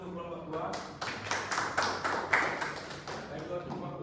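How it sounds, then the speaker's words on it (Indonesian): A small classroom group claps in a quick, uneven burst of sharp hand claps, close by, lasting a few seconds. "Beri tepuk tangan untuk kelompok 2."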